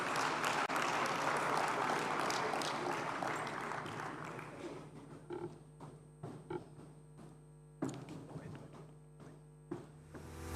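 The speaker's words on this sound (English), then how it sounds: "Please, a round of applause for the Honorable Minister." Audience at an opening ceremony in Kigali applauds a government minister, dense clapping that fades after a few seconds into a few scattered claps, with faint sounds from the room underneath.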